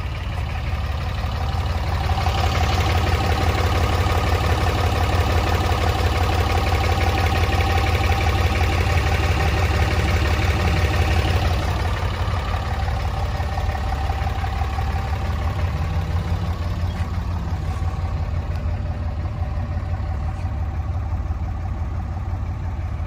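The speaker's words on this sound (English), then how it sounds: "Sounds good, sounds like a real diesel." A 2015 Ram 6.7-litre Cummins diesel truck idles steadily and loudly, with a constant low rumble and clatter throughout and no talking.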